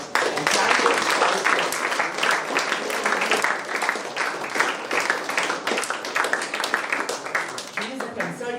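A crowd applauds Dr. K. Prasad at a National Doctors Day event, sustained dense clapping from many hands at close range, with voices mixed in throughout.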